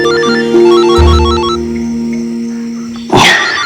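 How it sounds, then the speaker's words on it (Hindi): A mobile phone plays a looping electronic ringtone melody of stepped tones inside a car, loud and close, with a brief rustling burst near the end. "किसका फोन है?"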